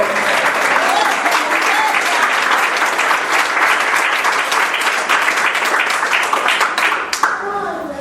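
A church congregation gives sustained, loud applause, a thick rush of many clapping hands with faint voices underneath, tapering off near the end.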